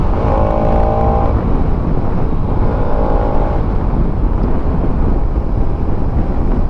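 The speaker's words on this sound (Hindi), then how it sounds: "बाइक एग्जॉस्ट यार" Bajaj Pulsar NS200 motorcycle exhaust under way on a ride, a loud continuous engine drone with rising revving tones and heavy wind rumble on the microphone.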